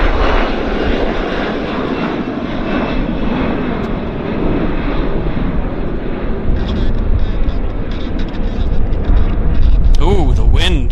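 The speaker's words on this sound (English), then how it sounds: "Cute takeoff." A Delta Embraer jet roars loudly on takeoff at Vancouver Airport, a broad, rumbling engine noise that stays heavy and steady throughout, with wind buffeting and a brief voice near the end.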